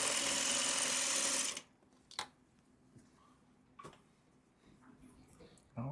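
A sewing machine joining fabric pieces runs loudly and close for about a second and a half, then stops abruptly. A few sharp clicks and taps follow over a quiet room.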